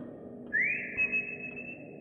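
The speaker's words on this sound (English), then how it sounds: "I can still whistle." A single rising whistle glides up and holds a steady bright tone for about a second and a half, loud and clear over a low game ambience in the horror game Lost in Vivo.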